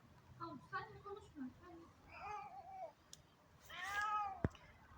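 A cat meows a few times in short, rising calls, with a louder drawn-out meow near the end, mixed with indistinct voices and background noise.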